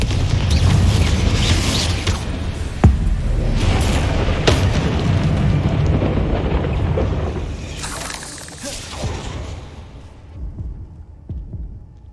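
Confringo fire-blast spells cast in Hogwarts Legacy, heavy booming bursts with sharp cracking impacts over a dense rumbling combat din, with a quieter tail near the end.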